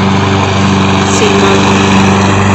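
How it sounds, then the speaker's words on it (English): A lawn mower engine runs steadily and loudly throughout, a continuous close droning hum with no pauses. "my husband on a mower."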